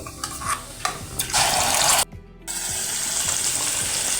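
Ground masala paste hits hot oil with cumin seeds in a kadhai, giving a loud hissing sizzle after a few clinks, a brief drop to near silence, then a steady frying hiss that continues to the end.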